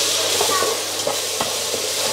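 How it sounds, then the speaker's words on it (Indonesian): Ground garlic and shallot paste sautéing in a pan for soto Bandung, with a constant close sizzle and soft stirring scrapes. "Tumis bumbu bawang putih dan juga bawang merah yang sudah dihaluskan sebelumnya."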